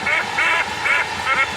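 Cartoon duck quacking in an animated kids' show, four bright nasal quacks in a steady rhythm, loud and close with no talk over them.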